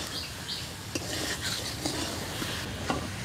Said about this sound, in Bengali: মশলা ও আলুর সাথে ডিমগুলো ভালোভাবে একটু আমি মিশিয়ে নিয়েছি